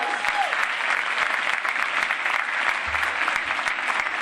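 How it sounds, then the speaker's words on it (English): Loud, continuous applause from a school audience honouring a staff award winner at a winter instrumental concert, a thick wash of clapping with no break. "Give her a round of applause."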